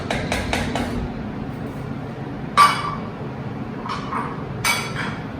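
Stewed vegetables stirred in a cooking pot with added salt, a series of clear spoon clinks against the pot at the start followed by a few sharper knocks, over a low simmering background.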